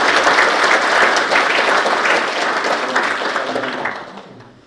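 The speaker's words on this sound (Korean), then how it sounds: "뜨거운 환영의 박수를" Loud, sustained applause from a large crowd at a breakfast lecture, dense clapping that holds steady before fading out near the end.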